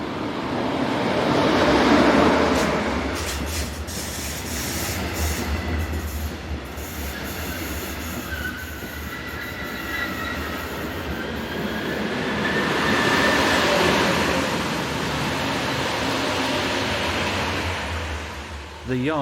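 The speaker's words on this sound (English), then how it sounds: "More longer distance services are formed of push-pull operated train sets, worked by Class 143 or sometimes Class 112 as seen here." A push-pull passenger train set hauled by a Class 143 locomotive rolls past loudly, with a steady rumble of wheels and rail joints, rising and easing twice as carriages pass, and a touch of wheel squeal.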